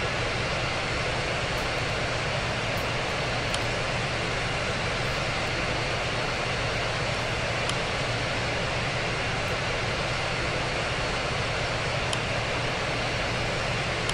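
Steady, loud roar of airliner jet engines in the RFS flight simulator game, heard on a flight from Heathrow to Paris as a constant broadband drone with no talking.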